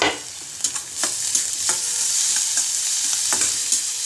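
Onion with ground spice paste sautés in a pan for radish-leaf paratha filling: a close, constant sizzle broken by several sharp spoon scrapes and clatters, with no voices.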